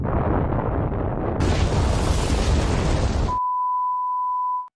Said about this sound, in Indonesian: lalu meledaklah kapal tersebut.